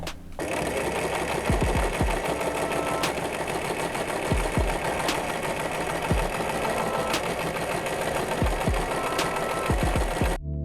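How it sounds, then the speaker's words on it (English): Sewing machine running steadily just after oiling, a loud close continuous mechanical whir with faint periodic knocks, and no voices. "And now let's sew a little bit so the oil moves."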